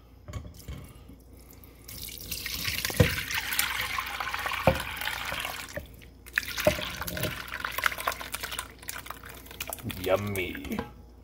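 Liquid splashes and gurgles as it is poured into a container in uneven bursts, with a person speaking briefly in between.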